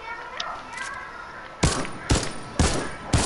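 Four sharp, loud gunshots ring out at roughly half-second intervals in a video game duos match, standing out over a low background hum with faint earlier pops.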